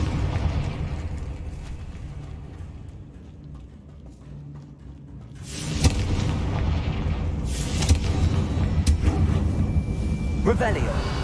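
A Confringo fire spell explosion in Hogwarts Legacy, a heavy boom that lands over a dense ambient game rumble, with a second burst a couple of seconds later.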